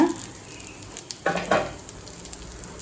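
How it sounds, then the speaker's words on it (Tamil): Curry leaves sauté in a pan with a faint low sizzle and a couple of brief scraping stirs near the middle, otherwise quiet. "இப்போ கருவேப்பிலை நல்லா பச்சை வாசனை போக வதக்கியாச்சுங்க"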